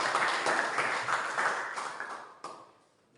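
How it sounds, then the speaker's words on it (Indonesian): Junior high school students in a classroom clap together in a short burst of rhythmic applause that fades out, with a final lone clap near the end. "Tepuk tangan dulu."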